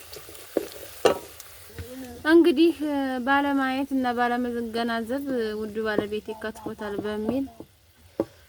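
Food sizzling and frying in an iron pot, a steady soft crackle running under someone talking for the whole stretch.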